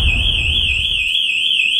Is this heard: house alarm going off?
yes